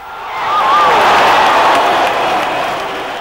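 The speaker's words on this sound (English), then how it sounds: "The huge crowd exploded into jubilation" A huge stadium crowd at an Iran versus USA football match erupts in jubilation after Iran's first goal, a dense roaring wash of cheering that swells and holds, distant and loud.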